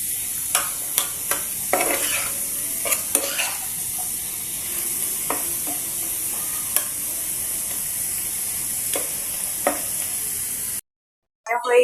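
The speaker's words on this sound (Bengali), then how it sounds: "আস্তে আস্তে ভাজা হয়ে যাচ্ছে।" Potato sticks for French fries frying in hot oil in a pan, a steady bright sizzle with scattered stirring clinks and scrapes, close and clear, before a brief drop to silence near the end.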